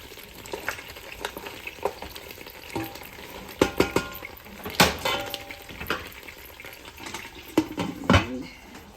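A spoon stirs thick isitshwala maize porridge in a pot while something sizzles and fries nearby, giving scattered scraping knocks and clinks over a steady frying hiss, close and moderately loud.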